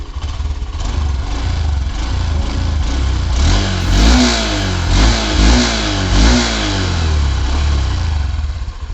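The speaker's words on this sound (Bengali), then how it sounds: "হালকা থ্রটেল দিয়ে সাউন্ড শোনাই।" A 2025 Honda SP 125 motorcycle idles close by, then its engine revs under light throttle in a few quick, smooth blips before settling back to a steady idle.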